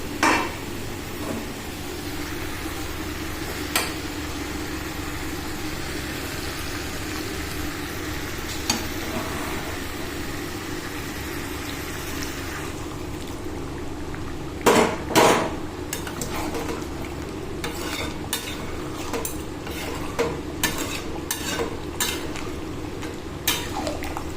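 Boiling water is poured into frying mutton curry and stirred in the pot. A continuous sizzle runs throughout, broken by sharp metallic clanks of the spoon against the pan, with louder bursts midway and toward the end.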